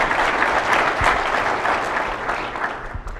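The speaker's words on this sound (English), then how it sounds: "So I think you guys should all give yourselves a little round of applause here." Audience applause in a room at a municipal legislative update meeting, a steady dense wash of many hands clapping, fairly loud and continuous throughout with no voices over it.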